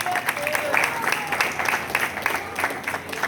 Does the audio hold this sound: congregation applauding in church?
yes